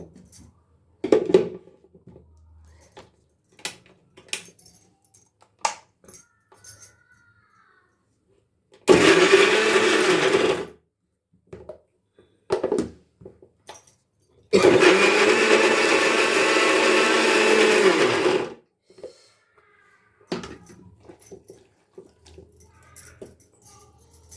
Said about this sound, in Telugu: దీన్ని గ్రైండ్ చేసుకుంటున్నాను